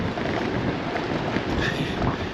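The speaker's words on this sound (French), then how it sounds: "Le vent est vraiment fort." Strong wind buffets the microphone during a bicycle ride in a steady, rumbling roar with gusty swells and no pauses.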